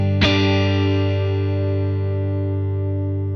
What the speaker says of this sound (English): If we turn that control up, that's going to add more of the reverb.